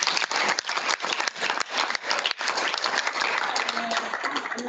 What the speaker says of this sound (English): one round of applause for the jury